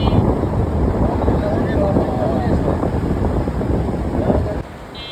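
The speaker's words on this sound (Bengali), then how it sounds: "আর সেই হালকা হালকা ঠান্ডা বাতাসের কথা আর কি বলবো।" A light, cool breeze blows near a waterfall in Pahalgam, producing a steady, close rush of wind that buffets the microphone for the whole stretch.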